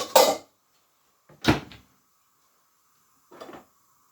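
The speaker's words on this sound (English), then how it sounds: "Put a lid on them." A lid is set down onto a pot of hearty green pea and ham soup on the stove: three short, separate clunks with quiet gaps between them, the first and second firmest and the last softer.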